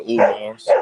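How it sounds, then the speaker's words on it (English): A dog barks twice in quick succession at close range, loud and sharp, with a voice briefly overlapping. "Excuse the dog, man."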